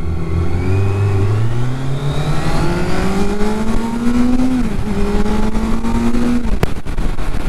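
Inline-four super sport motorcycle engine revving hard, a loud continuous howl whose pitch sweeps upward, eases briefly, then climbs again before cutting off sharply.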